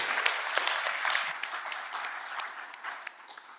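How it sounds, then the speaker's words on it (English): Steady applause from a conference keynote audience, a dense crowd of hands clapping at moderate distance, fading slightly toward the end. "Please give both of them a big round of applause."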